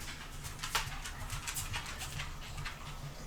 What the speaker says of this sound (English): It's my dog making noise in the background.